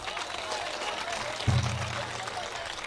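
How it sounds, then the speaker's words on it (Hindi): Applause from an audience at a poem recital rolls on steadily at moderate level, with a low thump and brief hum midway through the clapping. "मैं चाहती हूं एक बार उनके लिए जोरदार तालियां बजाएं।"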